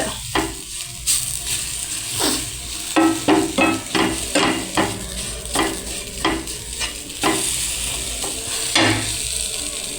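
Masala for a fish curry frying in a pan while a large ladle stirs it, giving a continuous sizzle broken by repeated scraping and knocking strokes in an uneven rhythm, close and fairly loud, with no one speaking.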